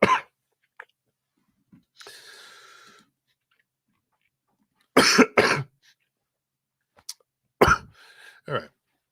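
A person coughs in several sharp, close bursts separated by pauses, with a brief rustle between them and no talk.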